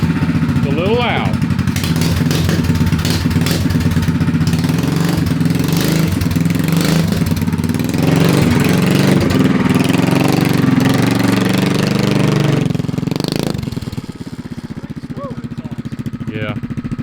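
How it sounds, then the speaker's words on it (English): Gas engine on a motorized fat tire bicycle running and revving loudly for a long stretch, with a steady buzzing drone that swells and then drops near the end, with people talking over it. "That's how you get a backwards running engine rolling forward."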